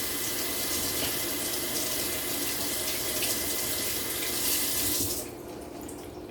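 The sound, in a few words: rinsing a cup under a running water tap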